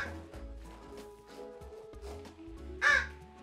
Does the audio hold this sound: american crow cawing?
yes